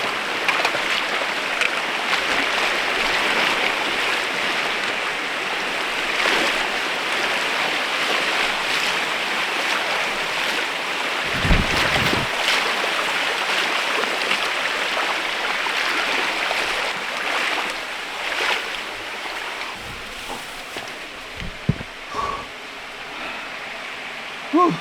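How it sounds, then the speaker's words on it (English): A steady rushing roar of flowing river water fills the scene while someone wades across a cold, flooded river in heavy rain, with splashes and a few heavier sloshing steps breaking through the continuous noise. "All right, last river crossing of the day."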